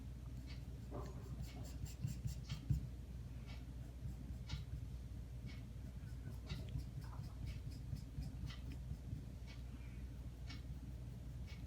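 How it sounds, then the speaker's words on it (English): Soft pencil strokes scratch back and forth across paper while cross-hatching shading, a faint, continuous scratchy patter with small ticks under a low steady room hum. "Cross means shading in both the direction, moving your pencil in both the direction."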